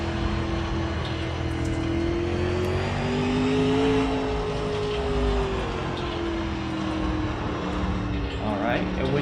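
A dirt late model race car in iRacing revs up, its engine note rising and falling in a sustained droning whine, with someone talking over it throughout.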